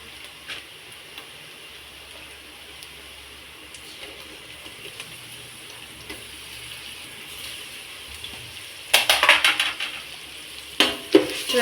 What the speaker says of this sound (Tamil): இப்போ நம்ம இஞ்சி பூண்டு விழுது போட்டுக்கலாம்